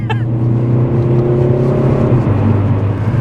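A Ford Focus ST with a 2-litre diesel and Powershift gearbox pulls away under acceleration, its engine a loud, close droning rumble that rises steadily and then shifts pitch, with a low voice briefly under it.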